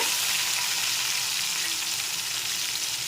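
Tomato pieces with salt sizzle in a hot pan, a steady dense hiss close and loud for the whole stretch, with no voices.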